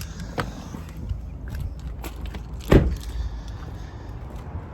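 A 2019 Toyota RAV4 Edge shut down and left, with a single louder door or body thud near the middle over low background rumble and a few faint clicks.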